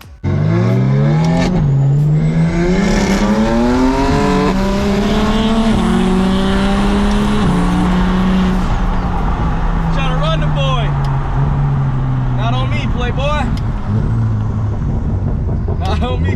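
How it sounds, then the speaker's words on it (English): A BMW 335is drives under load, its engine note climbing steadily through several gear shifts and dropping between them, heard loud and close from inside the car. "we're gonna go for a drive, and I'm gonna explain to you guys why I decided to get a 335 IS over a normal 335"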